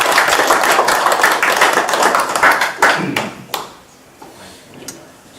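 Audience clapping at a church mission forum, dense and lively for about three seconds, then thinning into a few scattered sharp claps and taps before fading to near quiet.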